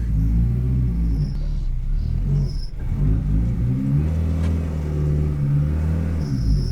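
A 700 hp Honda S2000 idles and revs with a deep, rumbling engine note, rising and falling in several close, loud pulses with no talk over it.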